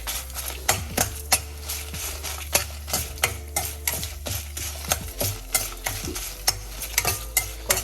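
Coriander thokku sautéing on a low flame, with regular clinking scrapes of a spoon against the pan over a soft steady sizzle, close and rhythmic, without speech.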